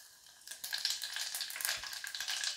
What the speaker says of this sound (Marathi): तेल गरम झालं आहे, यामध्ये प्रथम जिरे घालूया